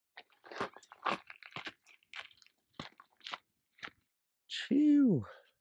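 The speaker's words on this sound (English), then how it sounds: "Chew." Food being chewed outdoors at a lakeside campsite, a few soft crunchy bites in quiet surroundings with scattered short sounds and a brief voice near the end.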